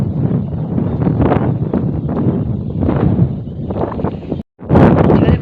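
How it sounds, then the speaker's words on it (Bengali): Strong wind blowing outdoors at a school, buffeting the microphone with loud, continuous rumbling gusts, a brief drop-out near the end before the roar returns. "জোরে বাতাসটা দিচ্ছে, দারুণ লাগছে"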